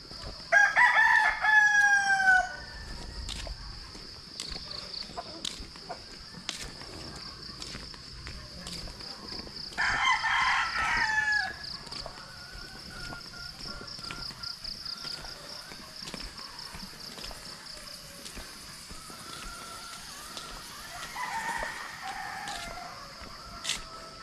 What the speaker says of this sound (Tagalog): Tilaok ng manok